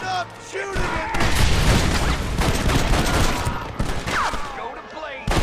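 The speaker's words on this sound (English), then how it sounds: "shooting at me!" Gunfire in Red Dead Redemption: a dense, loud barrage of overlapping shots and booms that carries on almost without pause, with short gaps and voices calling out under the din.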